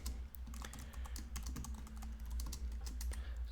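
Code being typed on a computer keyboard, a fast steady patter of close clicking keystrokes over a low hum, with no talking.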